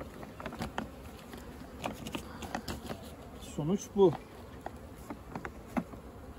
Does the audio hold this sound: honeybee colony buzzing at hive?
yes